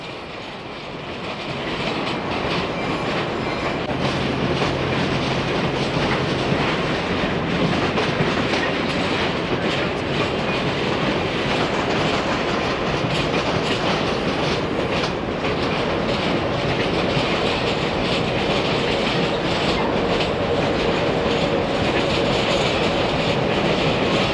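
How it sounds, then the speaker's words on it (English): An Amtrak train pulled by two electric locomotives rumbles steadily on the rails arriving at New York Penn Station, wheels clattering rhythmically, loud and close throughout with a faint metallic whine. "This train is arriving at Penn Station with 2 of the electric engines."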